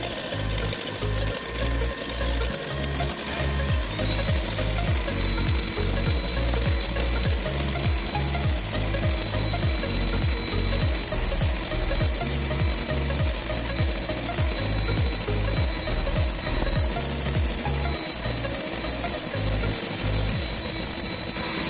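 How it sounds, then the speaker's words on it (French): An electric mixer runs steadily and loud for about twenty seconds, whipping egg whites with a pinch of salt into stiff peaks for a Kinder Bueno tiramisu, with a rhythmic pulsing whir. "Allez, on a fini de monter nos blancs en neige"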